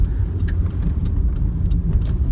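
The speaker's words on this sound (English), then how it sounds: "I am driving home from work." Car interior while driving home from work with the turn signal on: a steady low road and engine rumble fills the whole stretch, with faint periodic ticks above it, and no talking.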